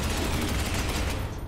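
Bolt fire from a video game, Space Hulk: Ascension, shooting a door open: a dense rapid burst of loud gunfire lasting about a second and a half before tailing off.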